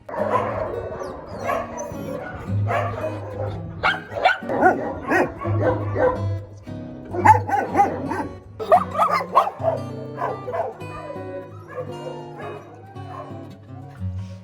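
Several dogs, including huskies and shar-peis, bark and yip in a loud, overlapping chorus at a municipal animal shelter in Vinnytsia, Ukraine, with an occasional whimper, all close by.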